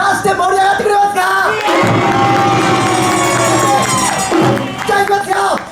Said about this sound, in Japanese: 拍手と声出して盛り上がってくれますか。